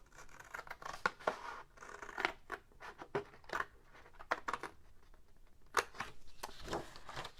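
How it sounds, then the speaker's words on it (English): Scissors snip through the corner of a paper folder, a quick series of crisp, close clicks and slicing crunches in an irregular rhythm, fairly quiet overall. "I'm cutting this whole corner off, and I'm just using my scissors"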